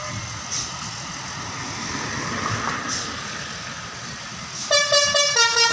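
A Jetbus 5 bus pulling out of a parking lot sounds its musical telolet horn near the end: a short burst of bright tonal notes over a busy outdoor crowd murmur.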